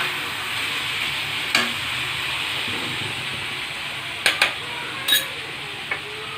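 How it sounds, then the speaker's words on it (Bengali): Onion paste fries and is stirred in a pan with a steady, soft sizzle, broken by a few sharp clicks of the spoon knocking against the pan's metal. "পেঁয়াজটি এভাবে পেস্ট বানিয়ে নিয়েছি, এটাকে এর মধ্যে দিয়ে দেবো। দিয়ে এভাবে নাড়াচাড়া করে নেব।"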